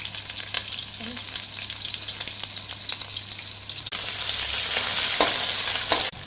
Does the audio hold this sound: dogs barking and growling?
no